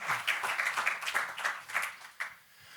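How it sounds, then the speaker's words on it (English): Small audience at a panel talk on writing with AI giving a brief round of applause, distinct individual claps close together for about two seconds before fading out. "a big round of applause for the beginning"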